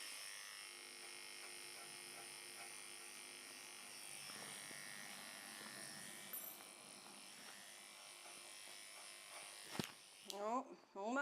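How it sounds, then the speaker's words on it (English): Electric clippers buzz steadily while shaving matted fur from behind a dog's ear, a close, quiet hum running throughout, with a person speaking softly near the end. "I don't think he's gonna like the sound of the clipper."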